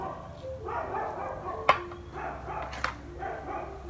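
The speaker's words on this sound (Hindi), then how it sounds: "पीछे कुत्ता कुछ ज़्यादा ही भौंक रहा है आज, डोंट नो वाई।" A dog barks repeatedly in the background, somewhat distant and muffled, with a couple of sharper yips standing out from a low indoor hum.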